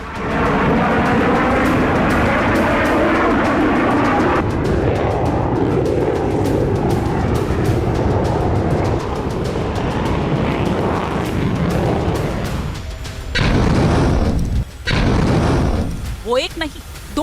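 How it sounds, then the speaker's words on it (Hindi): Pair of Israeli F-35I fighter jets tearing overhead, a loud sustained roar with heavy rumbling, broken by brief gaps and bursts near the end, with talk layered on top. "वो एक नहीं, 2 F-35I आसमान का सीना चीर रहे थे।"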